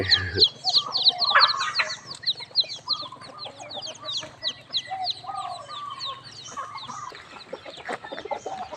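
Chickens at a temple in Lampang, Thailand, cluck and squawk steadily at morning feeding, with several birds calling over one another nearby.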